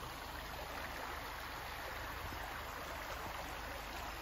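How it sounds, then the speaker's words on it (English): Steady broadband rush of a creek running along a mountain trail, continuous and fairly close with no break or voices over it. "all along the MCT there's these creeks just running all through it"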